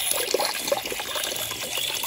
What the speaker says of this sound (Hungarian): A paradicsomokat jó átmozgassa az átnyomó víz.